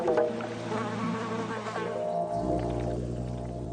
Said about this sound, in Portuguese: há muita atividade de insetos, todos competindo entre si pela mesma limitada fonte de néctar